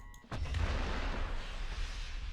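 A guided bomb dropped by a Reaper drone explodes in War Thunder, a sharp loud blast followed by a heavy rumbling boom that sustains and slowly fades over a couple of seconds.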